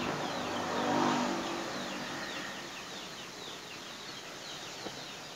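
A small Alkon water pump engine starts and runs with a steady, fairly loud buzzing drone that swells briefly near the start and then holds an even level, with faint outdoor chirps in the background.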